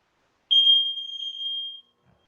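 An interval timer used during stretching gives one loud, clear, sustained electronic beep lasting just over a second, followed by quiet.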